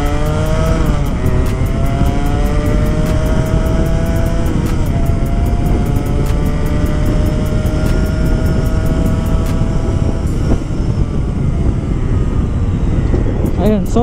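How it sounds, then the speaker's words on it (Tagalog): A Kawasaki AR80 motorcycle engine with a tuned Keihin 24mm carburetor revs up loudly in first gear, the pitch climbing steadily then easing off near the end, close to the microphone. "Ayun na yung RPM niya sa first gear bago mag-shift ng second gear."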